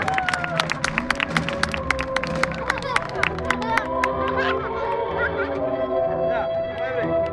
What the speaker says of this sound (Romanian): Aplauze pentru Alexis, Fernando și Cristof Fantazia.